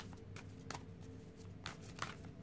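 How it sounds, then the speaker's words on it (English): Tarot cards are shuffled by hand in soft, quick riffling bursts, faint and close, with no talk. "I'll just get a couple more shuffles in there."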